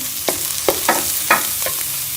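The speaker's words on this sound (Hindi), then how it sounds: "प्याज का कलर बस हमने हल्का सा चेंज करना है। प्याज हमारे सॉफ्ट होंगे" Onions and green chillies frying in a pan for chana samosa filling, a steady soft sizzle broken by several brief stirring scrapes spaced through the moment, close and moderately loud with no voices.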